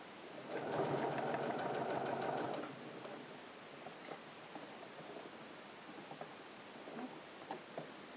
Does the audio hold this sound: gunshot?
no